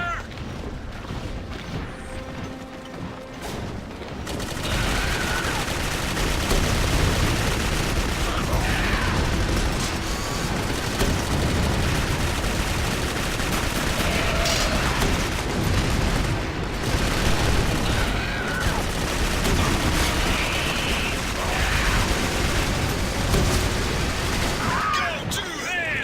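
Sustained gunfire in Clive Barker's Jericho fills the scene, dense and loud, with continuous bursts and booms after a quieter opening few seconds, mixed with game effects.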